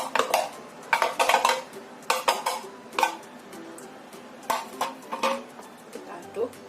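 A spoon clinks and scrapes against a bowl while tapioca mixture is stirred, sharp irregular taps and scrapes in bursts, fairly close.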